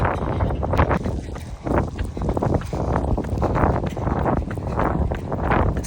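Strong outdoor wind roars and buffets the microphone in heavy, uneven gusts on a sunny day out running, a loud low rumble that never lets up.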